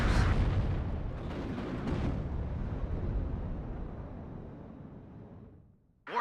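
Artillery barrage in the Cold War strategy game WARNO, a heavy booming blast followed by a long rolling rumble that slowly decays over several seconds before a sudden new burst at the end.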